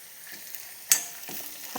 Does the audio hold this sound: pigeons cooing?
no